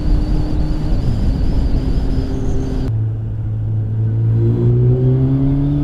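Motorcycle engine, a Honda Hornet, roaring steadily as it rides through a tunnel, the sound shifting abruptly to a deeper, echoing tone with rising engine pitch, loud and close.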